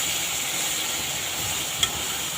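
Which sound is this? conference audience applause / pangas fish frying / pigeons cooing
pangas fish frying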